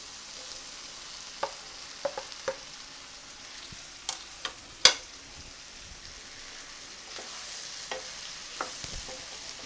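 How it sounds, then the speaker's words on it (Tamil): Cut mushrooms fry with softened tomato and onion for a mushroom pepper masala, a low sizzle broken by several sharp spoon-against-pan stirring clacks at an irregular pace. "இப்போ தக்காளி வெங்காயம் ரெண்டுமே கொஞ்சம் வதங்கிடுச்சு அடுத்தது நம்ம கட் பண்ணி வச்சிருக்கூடிய மஷ்ரூம் இதில் சேர்த்துடலாம்"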